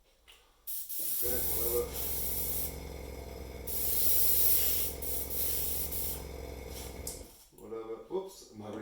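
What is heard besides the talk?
airbrush spraying water to change paint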